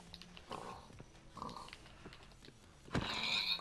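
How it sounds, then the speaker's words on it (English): Pig grunts in the Minecraft survival game come in short snorting bursts between soft footsteps and game sounds, ending in a louder hit-like crash. "I see you over there, pig. Get over here."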